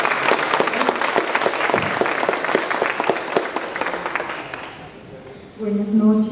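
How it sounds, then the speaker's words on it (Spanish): A church audience gives loud, sustained applause to welcome a woman doctor to the stage, dense clapping that fades after about five seconds as a voice begins speaking alone. "Quiero que la recibamos con un fuerte aplauso para el Señor"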